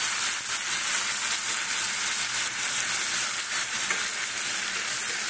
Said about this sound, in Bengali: এই মশলাটা কষাচ্ছি